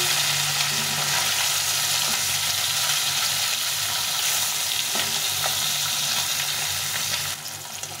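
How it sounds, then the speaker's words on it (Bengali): Potato pieces sizzle in hot oil in a pan while cooking a rohu fish curry, a continuous dense crackling hiss close by, steady for several seconds before easing slightly at the end; no voices. "এভাবে করে ভালো করে আলুকে ভেজে নিতে হবে।"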